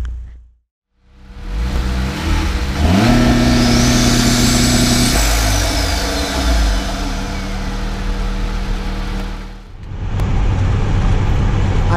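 A turbocharged 1.8 car engine with an FT450 ECU idles steadily while stopped in traffic, a low even hum with a rising whine at one point, then a brief dip and a return to a steady idle.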